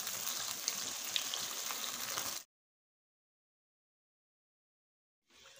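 Camel karahi meat frying with yogurt in a pan over a medium flame, a steady dense sizzle for about two seconds that cuts to silence, then returns faintly near the end.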